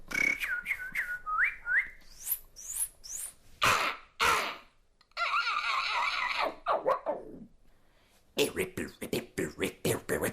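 A beatboxer whistles imitations of birdsong, quick chirps, trills and sliding notes in bursts, with a buzzy warbling stretch and staccato clicks, close and loud; a human voice imitates the birds.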